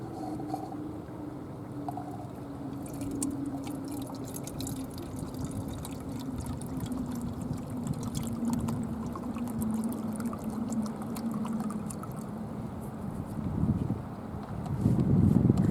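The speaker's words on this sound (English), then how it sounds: "first I'm going to measure out 8 ounces of hydrogen peroxide." Hydrogen peroxide pours into a bottle in a steady, close trickle that runs for about fifteen seconds and grows slightly louder near the end.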